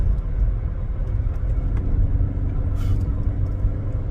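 Steady low road rumble heard inside a car driving at the speed limit, a constant engine and tyre drone with a brief brighter hiss midway and no talking.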